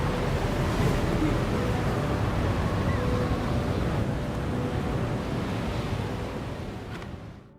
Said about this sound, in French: À l'extérieur, un vent violent souffle sur toute l'arête de la tour.